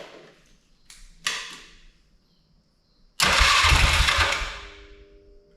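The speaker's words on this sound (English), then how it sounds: "Just gonna hit the starter real quick and make sure that works" A rebuilt Polaris Sportsman 500 ATV engine is cranked by its starter, a short loud burst of whirring and firing after a couple of faint clicks, then tapering off.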